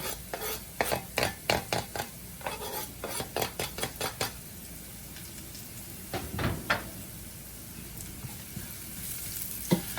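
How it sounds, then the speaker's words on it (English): Grated garlic sizzles in a frying pan with a soft steady hiss, punctuated by a quick series of sharp utensil clinks and pan knocks, then a few more scrapes near the end. "now I'm going to add the grated garlic"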